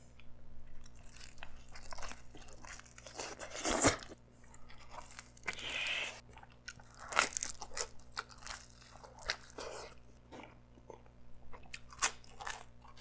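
Crunchy bites and chewing into a hot, fresh cheese pizza, close and loud, with repeated crisp crunches and wet mastication sounds spread across the stretch, no talking.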